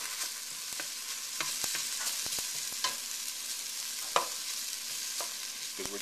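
A continuous hiss of food searing in a pan with oil and bay leaf, punctuated by occasional utensil clicks and taps, close by and without any talking.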